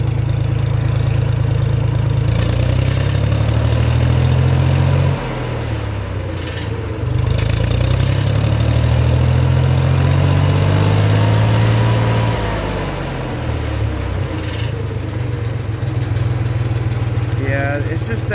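A 1974 Ford 3000 gas tractor engine, revived after being completely locked up, runs steadily at a loud, close idle with a low, throbbing drone that dips and shifts pitch a few times, while someone talks over it.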